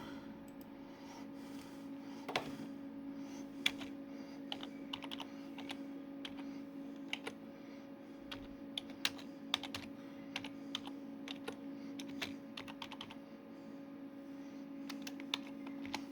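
Steady typing on a computer keyboard near a Goodmans Delta 900P, irregular clicks running throughout over a constant low electrical hum, with no talking.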